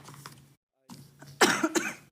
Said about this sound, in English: so that's why I'm coughing